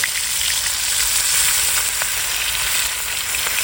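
Fish frying in hot oil in a pan for a fish curry gives a loud, steady, dense sizzle with faint crackles throughout and no voices.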